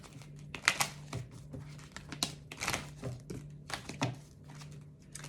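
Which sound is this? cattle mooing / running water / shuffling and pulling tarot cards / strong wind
shuffling and pulling tarot cards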